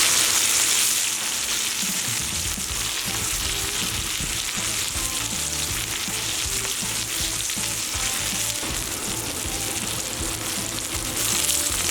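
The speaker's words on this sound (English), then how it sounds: "Now we'll transfer that right into the oil and let this sear." A tomahawk steak sears in hot avocado oil on a pellet grill, producing a loud, dense, unbroken crackling sizzle with a brief burst of extra spatter as the meat goes into the oil.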